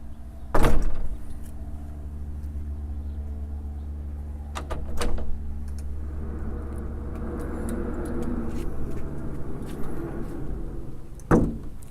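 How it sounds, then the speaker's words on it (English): A Marvin bifold door is opened and closed several times, with sharp latch clacks and bangs, a long rolling slide of the panels along the intermediate carrier, and a final close thump, all near and without talk. "we decided we're going to go ahead and try the operation of the door just to make sure everything is set fine"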